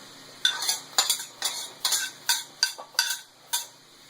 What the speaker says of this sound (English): I'm going to add about 3/4 of a large onion. Get all that in there.